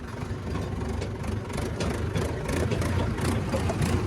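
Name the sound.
tractor engine climbing a slope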